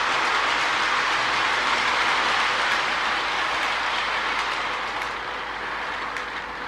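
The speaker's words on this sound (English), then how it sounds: "what a beautiful train" A Marx E7 Great Northern Empire Builder toy train with a powerful motor runs steadily along its track pulling cars, a continuous close whirring hum with faint rhythmic wheel clicks, gradually softening toward the end.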